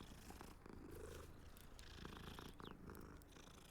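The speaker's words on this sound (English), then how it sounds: "Gotta pet the cat." A cat in the Hogwarts Legacy video game purrs softly while being petted, a faint low rumble running for a few seconds under quiet game ambience, with no talk.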